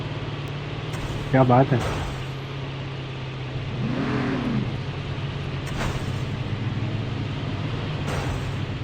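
A vehicle engine in the video game Call of Duty Mobile hums steadily with a brief revving swell, running continuously beneath casual talk and excited exclamations between players.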